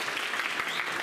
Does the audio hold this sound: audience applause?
yes